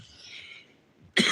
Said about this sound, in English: I'm smoking weed, y'all, so that's why I'm coughing